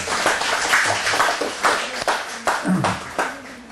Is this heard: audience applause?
yes